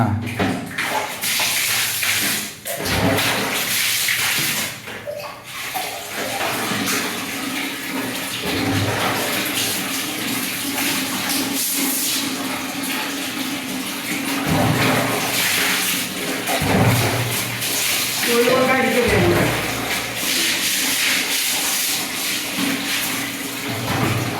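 Water splashes and pours steadily while a bathroom is washed down, broken by brief pauses and bursts of louder gushing, with faint voices now and then.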